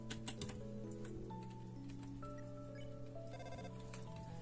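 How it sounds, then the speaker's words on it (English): Undertale's text typing sound effect runs throughout as a fast, steady stream of short electronic blips, set against bright game music with sustained tones. "Sans will be typing from now on."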